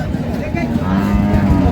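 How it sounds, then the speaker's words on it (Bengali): A cow lows at a rural cattle market in Dinajpur, a deep drawn-out moo close by with faint market chatter in the background. "কাঁচা বয়সের গরু"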